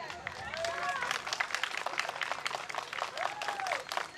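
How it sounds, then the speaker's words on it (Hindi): Wedding crowd applause from the bride's side, brisk and continuous, with scattered voices and a few whoops rising over the clapping. "तो पहले वधु पक्ष की तरफ से जोरदार तालियां हो जाए।"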